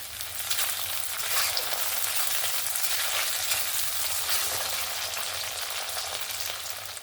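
Chopped tomato and slit green chilies frying with browned onions in a pan, giving a loud, steady sizzle with crackling bursts and a low hum underneath, close up and continuous.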